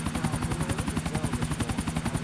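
Helicopter in the video game GTA IV: a steady, loud rotor chop with a rapid even beat and a droning engine whine, running continuously without talk.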